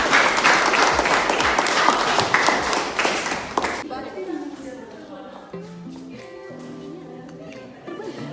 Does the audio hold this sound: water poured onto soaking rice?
no